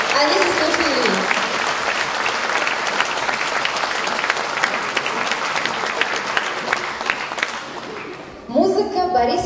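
A concert audience applauds the singers of a folk ensemble performance, a loud dense wash of clapping that holds steady for several seconds before fading, with a voice and music starting at the end.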